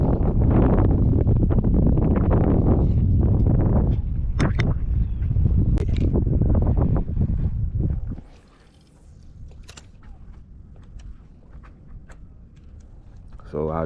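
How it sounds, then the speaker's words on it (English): Wind buffeting a microphone outdoors while fishing for bluegill in Florida heat, heavy loud gusts for several seconds that drop abruptly to a quieter breeze, with someone talking. "the wind is blowing it"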